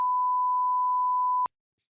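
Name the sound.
censor beep over podcast speech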